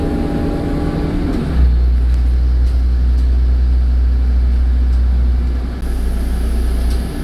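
A MAN 16.220 Designline bus from Logan Coaches rumbles on a steady low engine drone heard from inside, dropping into a deeper, heavier hum after a shift, loud and unbroken with no talk.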